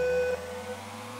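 A retro, chiptune-like car engine from an indie racing game called Concept Car Series 2010 holds a thin, steady buzzing drone with a faint high tone, quiet and alone.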